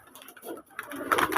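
Domestic pigeons coo softly at a pigeon farm, a brief low murmur of calls rising in the second half, fairly near and quiet.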